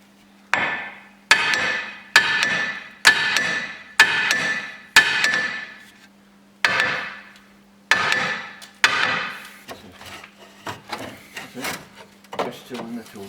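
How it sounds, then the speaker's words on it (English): A hammer strikes sharply during work on a Skoda Octavia MK1 vRS, in a run of about eight distinct, evenly spaced loud blows with ringing decays, followed by quieter, irregular knocks and some speech nearby. "Hammer and a lever."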